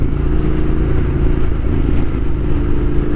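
A 2021 Yamaha Tenere 700 engine pulls hard under throttle, a loud, steady low rumble with mechanical clatter, heard close without speech.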